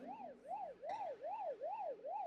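A wailing emergency siren rises and falls in a steady, repeating cycle of about six sweeps, sounding fairly distant and continuous with a brief sharper burst partway through.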